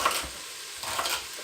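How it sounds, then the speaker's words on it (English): Chopped onion frying in a pan for a winter casserole, giving a soft, steady sizzle with faint crackles, close and fairly quiet, with no talking over it. "That's sizzling away nicely"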